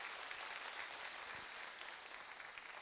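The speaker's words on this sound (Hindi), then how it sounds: "अपने गड़गड़ाती हुई इस करतल ध्वनि से जो मेरा सम्मान बढ़ाया" Sustained applause from an audience of attendees at a network marketing talk, a dense steady roar of many hands clapping that holds evenly throughout with no voices over it.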